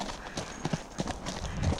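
Horse hooves clip-clopping on a road during a hack out, several fairly faint, irregular hoof strikes over quiet outdoor background.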